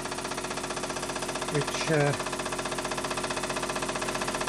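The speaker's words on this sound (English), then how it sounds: "This is the nice pre-war Meccano steam engine," A pre-war Meccano toy steam engine runs with a steady, fast mechanical chugging and ticking rhythm that continues throughout, with someone briefly speaking over it.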